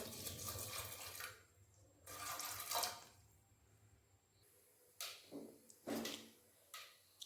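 Water pours into a pressure cooker holding chickpeas and potatoes on a gas stove, in several splashing bursts of varying length with quiet gaps and faint kitchen clatter between them.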